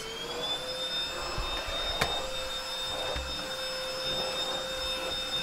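A Silvercrest cordless vacuum cleaner from Lidl, the Boost Now E87, runs in max mode over a thick carpet with a steady, high-pitched motor whine and airy rush, plus a few faint knocks from the brush head.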